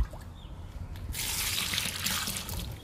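Liquid fertilizer poured onto garden plants, a faint trickle at first that turns into a fuller, steady splashing pour about a second in, close by and without talk.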